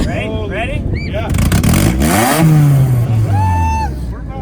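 An import car's exhaust at a drag strip revs up hard, rising to a loud throaty roar and then falling away, with excited voices talking over and around it close by.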